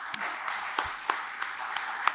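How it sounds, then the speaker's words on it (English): A small audience claps for speaker Elese at a cybersecurity talk. The claps are sparse and separate, a few distinct hand slaps at a steady pace over a low room murmur, ending quickly. "can I please get a massive round of applause for Elese?"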